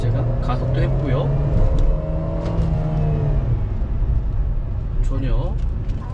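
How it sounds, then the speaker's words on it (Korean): A used SsangYong Tivoli accelerating on the road, engine note rising and whirring steadily from inside the cabin, with someone talking over it throughout. "지금 제가 가속도 했고요"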